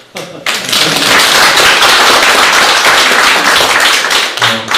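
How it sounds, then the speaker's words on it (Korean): Loud applause from a seminar audience in Korea, dense clapping building quickly after a brief pause and sustained for several seconds before tapering slightly at the end. "박수 한번 주십시오."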